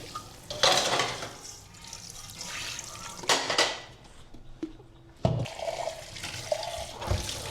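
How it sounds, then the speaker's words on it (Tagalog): Tap water runs into a kitchen sink while a few dishes are washed, with splashing surges, brief pauses and clinks of crockery, fairly quiet and close. "Hugas muna ako guys. Konti lang naman to."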